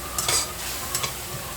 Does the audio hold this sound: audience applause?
no